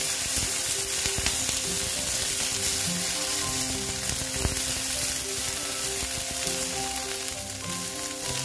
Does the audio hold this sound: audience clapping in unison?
no